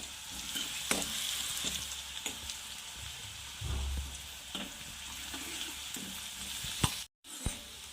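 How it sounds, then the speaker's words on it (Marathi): Coarsely crushed cumin and garlic frying and being stirred in a pan for guar bhaji, a steady close sizzle with occasional scrapes and clinks of the spoon, no voices. "जिरं आणि लसूण जाडसर बारीक करू याला आपण छान दोन तीन सेकंद पकू द्यायचं आहे"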